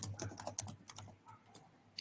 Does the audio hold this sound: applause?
no